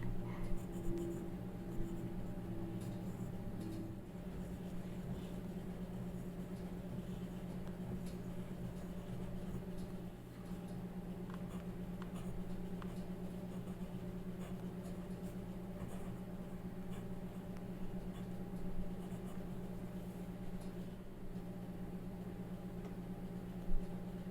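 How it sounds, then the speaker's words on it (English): A TWSBI Mini fountain pen with a medium nib scratches across paper in short, faint strokes over a steady room hum, with a few light taps and no talking. "let's go ahead and test this one out, which is the medium nib down here. We'll just do a little scratch up there"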